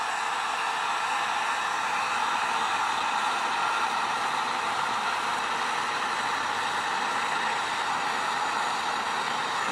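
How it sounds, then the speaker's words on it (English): Heat gun blowing hot air over a piece of foam, a steady loud hiss-like rush that runs unbroken from start to finish with no talking. "take this piece of foam here and just heat it up with the heat gun."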